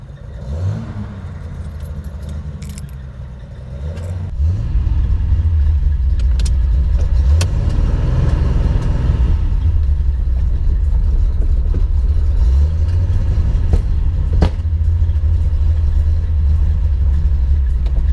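A home-built Datsun 240Z's engine rumbles loudly from inside the car, idling then rising as it pulls away and keeps driving, with occasional small clicks and rattles.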